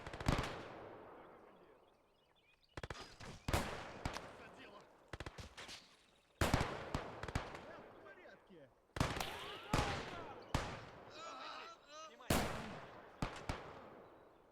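Rifle shots and machine gun bursts from a World War II battle in the Gates of Hell: Ostfront video game, heard as sharp cracks and rattling volleys clustered in irregular bursts, loud and close, separated by short lulls.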